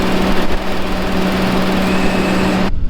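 The small engine on a boom machine runs loud and close at a steady high-pitched drone, holding an even tone until it cuts off abruptly near the end.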